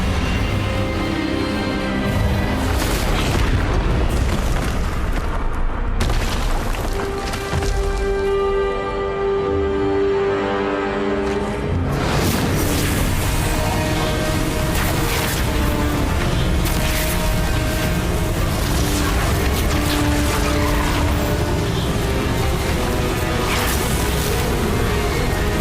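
Expelliarmus spell blast in Hogwarts Legacy, a loud, dense magical burst with booming impacts and whooshing rushes under a swelling orchestral score, continuous and full throughout.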